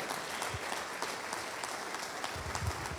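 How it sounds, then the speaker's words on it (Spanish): A church congregation claps steadily, a dense sustained wash of applause from many hands filling the room throughout, with no gaps. "que sea más fuerte ese aplauso a esta palabra que se nos ha ministrado"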